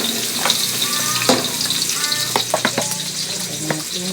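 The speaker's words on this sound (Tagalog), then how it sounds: "Lalagyan ko na yan ng sibuyas. And then bawang." Onion and garlic sautéing in hot oil for pancit canton, a loud continuous sizzle broken by scraping stirs and clatters of a spatula against the pan, with no talking.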